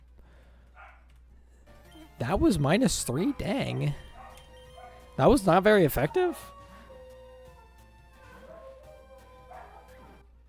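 Pet dogs barking indoors in a home, several loud yelping barks and whines in two clustered bursts, close to the microphone, with a person talking quietly around them.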